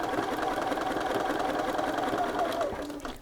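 A sewing machine runs steadily while a sleeve is stitched into a garment, its motor whirring close and continuous before easing off at the very end.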